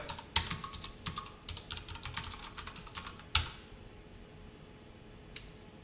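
Fingers tap out JavaScript code on a computer keyboard, producing close, irregular clicking keystrokes in quick runs with a few louder single presses and a quieter stretch at the end.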